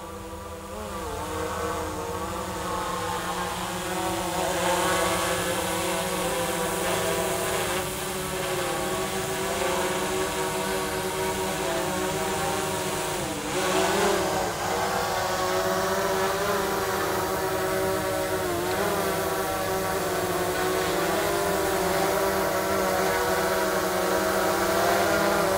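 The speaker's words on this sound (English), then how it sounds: "So let's go ahead and land this guy." A DJI Mavic 2 Enterprise Dual drone hovers and descends to land. Its rotors give a steady, loud, close whine whose pitch wavers slightly as it comes down, heard continuously without speech.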